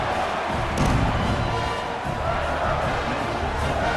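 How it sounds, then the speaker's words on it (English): A stadium crowd in EA Sports College Football 26, with Duke playing Clemson, cheers in a steady, dense roar at moderate level, a brief swell rising near the start, while muffled thumps sit underneath and no voice stands out. "this crowd is feeling themselves after that last drive"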